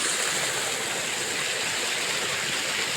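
Continuous broad rush of water flowing in a channel beside rice fields, steady and fairly loud, with no voices over it.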